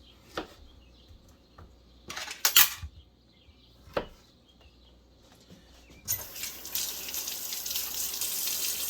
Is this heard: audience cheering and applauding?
no